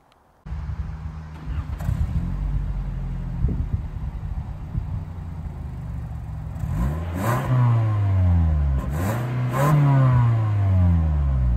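A Toyota Camry SE engine revs and shifts through gears as it pulls away in rain, the pitch rising and falling in repeated sweeps, close and steady.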